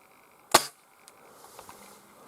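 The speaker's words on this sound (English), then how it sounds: "Airgun. Shooting a coke box." A single sharp airgun shot rings out at a coke can during a bushcraft stay at a cottage on Andøya, Norway, followed by a faint ping or rattle and quiet outdoor ambience.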